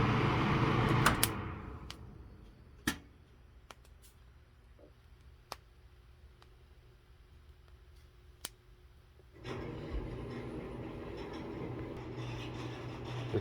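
Coffee beans roasting in a hot skillet give off a few sharp, isolated pops spread over several seconds, set against a quiet background with a louder rustling of stirring at the start and end.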